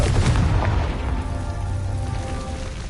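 A booming fire-spell blast from a Harry Potter video game, with a loud rumbling burst at the start that settles into a crackling, hissing tail, heard on its own.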